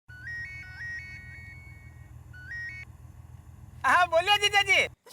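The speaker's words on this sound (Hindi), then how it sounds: "लगा दिया है फोन।" A phone ringtone of repeated electronic melodic tones plays under steady background music in an Indian household setting, followed near the end by a louder burst of sound.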